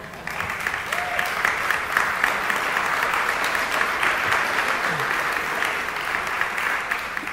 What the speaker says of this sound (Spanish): Y aplaude una persona